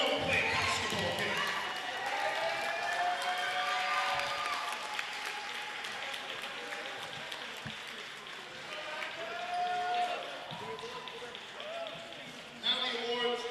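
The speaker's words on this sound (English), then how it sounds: "let's give a round of applause to both teams" Sustained applause from a gym crowd after a basketball game, steady clapping mixed with cheers and chatter, with a few bounces and thuds in the background.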